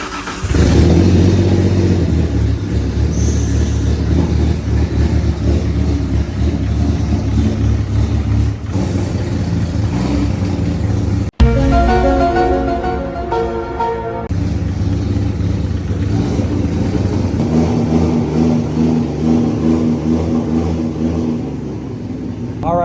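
A BMW F80 M3 fitted with a cheap Alibaba valvetronic-clone exhaust revs loudly and continuously at close range, with a brief cut partway through, then the engine drones on with a steady, raspy tone.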